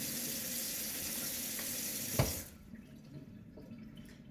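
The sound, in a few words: tap water running while washing fruit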